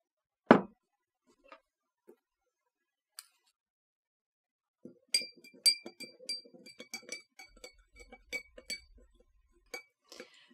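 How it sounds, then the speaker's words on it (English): A spoon stirring table salt into a glass of water clinks against the glass in a quick, uneven run of light taps after one sharp knock at the start. The sound is close and clear, with no talking. "This can be easily demonstrated by stirring table salt into a glass of water."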